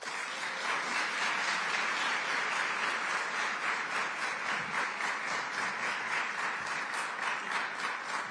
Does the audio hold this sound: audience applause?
yes